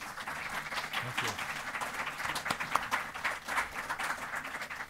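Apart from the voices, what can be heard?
audience applause welcoming guest speakers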